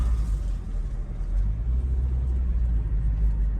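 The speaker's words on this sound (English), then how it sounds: "I just turned into my neighborhood. The car slowed down." A car slows as it turns into a residential neighborhood, giving a low, steady engine and road rumble from inside the cabin with no speech.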